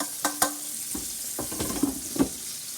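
Pork chops frying in a pan give faint sizzling, broken by several sharp clatters and scrapes as they are stirred and turned.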